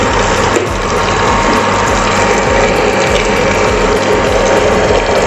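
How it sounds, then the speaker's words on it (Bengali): Water pours steadily into a pan of rohu fish head curry, a continuous loud rushing, splashing flow lasting throughout with no talk over it. "তাহলে জলটা দিয়ে দিচ্ছি আমি।"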